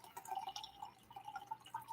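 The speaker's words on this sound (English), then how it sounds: "Sorry, I'm getting more water." Water pours and trickles quietly at a distance while a container is refilled, with soft splashing and dripping in uneven spurts.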